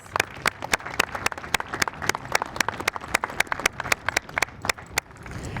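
An audience at an elementary school ribbon-cutting ceremony claps for teachers and staff, a thin scattering of sharp individual claps, uneven and fairly close, rather than a dense roar.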